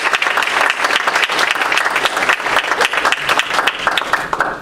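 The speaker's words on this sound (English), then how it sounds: "so we can give him a little applause" An afternoon audience at a diversity talk bursts into sustained applause, dense and loud clapping that continues throughout without a break.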